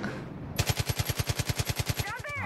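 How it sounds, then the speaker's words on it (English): Machine gun firing in Far Cry 5, a rapid loud burst of about fifteen evenly spaced shots lasting around a second and a half, followed by a brief metallic ring. "Oh, this machine gun sounds cool."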